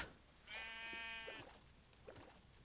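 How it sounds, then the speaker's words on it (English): A Minecraft sheep gives one clear, nasal bleat lasting about a second, followed by a fainter, shorter sound, in a quiet game setting. "But I did see sheep, which I do need."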